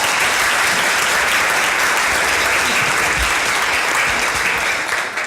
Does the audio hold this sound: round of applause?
yes